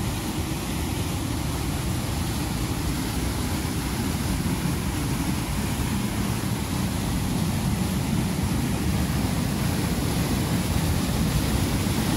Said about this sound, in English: Let's take a walk down to the another waterfall section.